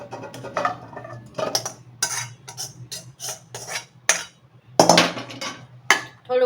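Vada pav filling is scraped from a pan into a bowl, giving a series of sharp metallic clinks and scrapes of a spoon against cookware in irregular bursts, close up, with no talking.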